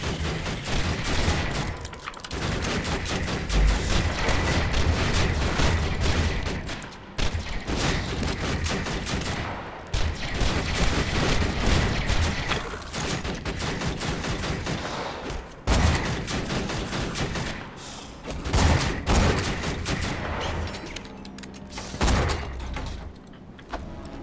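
Turret gunfire rattles through a fight in the video game Borderlands 2, dense rapid bursts of shots hammering almost without pause and breaking only briefly, loud and close, with no talking.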